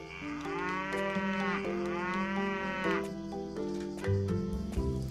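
Cows moo inside a barn in the farming video game Doraemon Story of Seasons, two long drawn-out lowing calls followed by shorter ones and a few clicks, loud and close with no talking.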